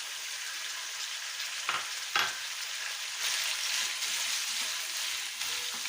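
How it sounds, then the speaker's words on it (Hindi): Mutton coated in ginger garlic paste sizzling and frying in a pan, a steady bright hiss with a few sharp scraping stirs from a utensil, close and continuous with no talking. "इसको हम भून लेते हैं अच्छे तरीके से।"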